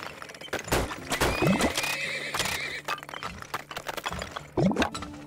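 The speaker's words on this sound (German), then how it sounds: "So, jetzt brauchen wir noch ein paar Pferde." Horses neigh and whinny in the Turmoil video game, several sharp, clear calls over soft hoof clip-clop and a gurgling, liquid game sound, fairly close with no talking.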